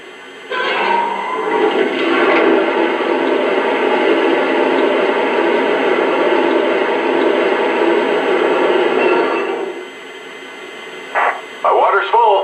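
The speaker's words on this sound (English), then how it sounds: "Here's the sound of water being added to the tender." Lionel Southern Pacific AC-9 model locomotive sound effect of water filling the tender: a loud, steady rushing hiss lasting several seconds, then fading, followed by short bursts of radio-style crew chatter.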